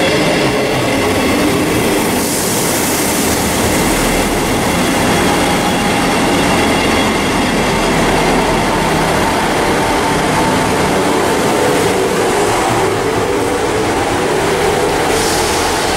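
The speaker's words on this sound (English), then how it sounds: "Here comes 158. This train is the service from Brighton." A Class 158 diesel train on the service from Brighton arrives with a loud, steady rumble and rolling rail noise, close by and continuous, with no talking.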